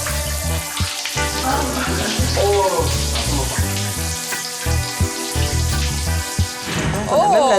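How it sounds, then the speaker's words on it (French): A shower runs with a continuous rushing hiss of water, loud and close for the whole stretch, while voices talk over it and the sound shifts and splashes near the end. "juste avoir de l'eau qui coule."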